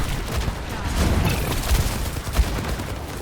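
Gunfire from a firefight in the video game Overwatch, with rapid overlapping shots and bursts from several weapons at once, loud and close, punctuated by a sharper hit near the end.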